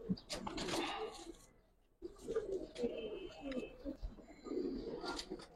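A female Giribaz pigeon coos nearby in low, rolling phrases, with a brief pause, then a few more throaty bursts and faint background voices.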